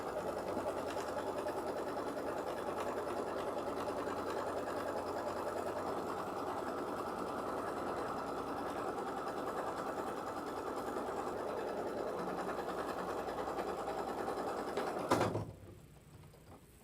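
A sewing machine runs a 2-ply tacking stitch around a fabric square, a steady unbroken mechanical whir for about fifteen seconds before stopping abruptly, leaving near quiet.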